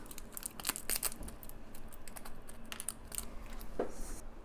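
Plastic packaging from a Fanhome Millennium Falcon scale model kit crinkling and rustling in quick, light bursts close by, with scattered clicks and a brief sharper crackle near the end over a quiet room hum.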